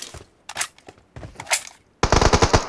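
Automatic weapon fire in the mobile battle royale game PUBG Mobile: short sharp bursts of shots, then a longer rapid volley at the end, loud and close.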